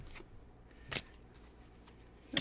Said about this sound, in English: I'm going to just shuffle the cards.